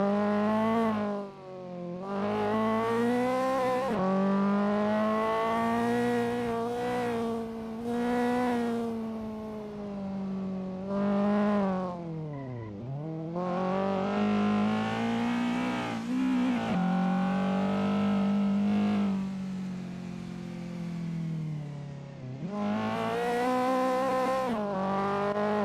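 A race car in the Assetto Corsa sim racing game on a touge mountain road, its engine revving up and down continuously and loud with shifting pitch, with brief dips between pulls.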